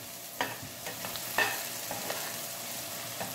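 Onions frying in a pan for white sauce spaghetti, a low steady sizzle with several quick scrapes and taps of a stirring utensil, close and quiet with no talking.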